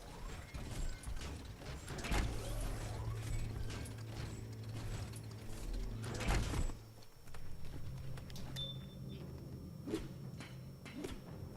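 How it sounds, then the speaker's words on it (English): Metal gears grind and clank in the video game Biomutant, with rattling ratchet-like clicks, creaks and low mechanical hums that rise and fall over several seconds alongside scattered game sounds. "Grind those metal gears."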